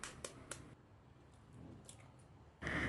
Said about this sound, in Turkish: Ardından 3 adet yumurtaları ilave ediyorum.